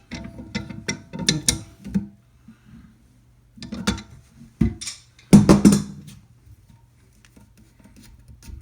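An adjustable wrench loosens the supply-line nut under a toilet during a toilet replacement, giving off close, intermittent metallic clicks and scraping handling bursts with quiet gaps between them.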